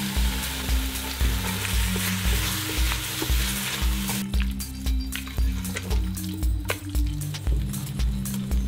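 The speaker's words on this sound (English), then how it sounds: "You then need to add all of the crème fraîche and cherry tomatoes and then stir." Chicken curry sizzles in a pan as crème fraîche and cherry tomatoes are added and stirred, loud frying at first that softens into wetter squishing and dripping with regular spoon scrapes and knocks.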